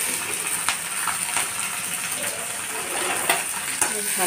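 Finely chopped green chillies frying with garlic in a spoonful of oil, a steady bright crackle with occasional spoon-stirring clicks, close and moderately loud, no voices.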